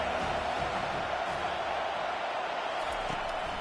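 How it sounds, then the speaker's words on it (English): Home crowd at an Alabama football game roaring loudly and continuously, a dense broad wash of cheering that stays steady throughout. "how nice is it to have the home crowd going absolutely bananas?"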